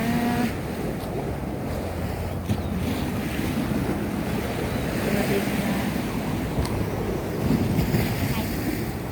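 Sea waves wash steadily onto the shore at Cha-am beach in the evening, a continuous broad rush of surf mixed with wind buffeting the microphone, with a faint voice now and then.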